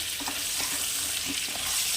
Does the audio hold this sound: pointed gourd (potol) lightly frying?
yes